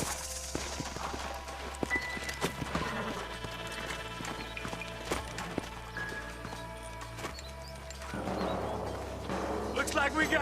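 Rhythmic clip-clop of horse hooves trotting in the video game Red Dead Redemption, with scattered sharp clatters and a busy layered background; the hoofbeats stay clear and fairly close throughout.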